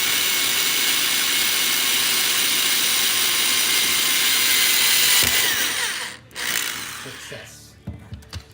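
A power drill whines loudly and steadily while boring screw holes for an RV skylight replacement, then winds down and cuts out briefly before short bursts resume near the end.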